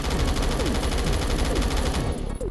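G36 rifle in a video game, fitted with a muzzle brake, angled grip and laser, fires a sustained automatic burst of loud, rapid, punchy shots for about two seconds before stopping, followed by one more sharp report.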